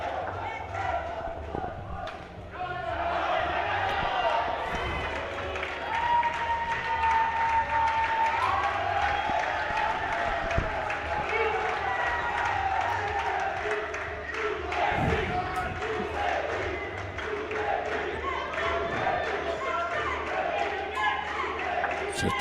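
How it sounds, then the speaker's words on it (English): A crowd at a cricket match cheers and murmurs continuously, with scattered shouts and claps, while a commentator's voice speaks over it. "the normal cheering"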